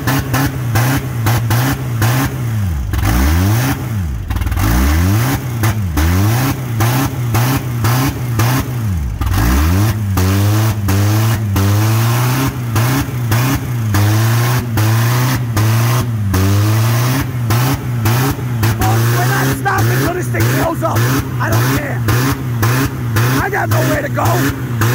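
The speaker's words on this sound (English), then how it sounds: "Rev it up, it'll go in." A car engine revs hard in repeated bursts, rising and falling in pitch, during a neutral drop, loud and close throughout, with people talking and shouting over it.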